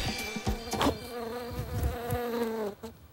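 A voice imitates a buzzing bee with a sustained, wavering nasal drone, pitch sliding slightly over about three seconds, close and fairly quiet with a few soft clicks.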